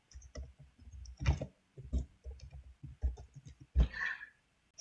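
Mouse clicks while building pages in Google Sites: a run of short, sharp clicks scattered over a few seconds, fairly close and moderately loud, with no voices.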